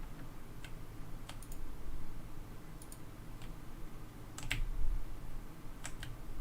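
Computer keyboard keys pressed in scattered single clicks and short pairs, faint and close, over a low steady hum with no talk, while controlling a rocket in Kerbal Space Program.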